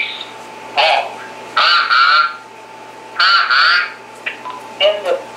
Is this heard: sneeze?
no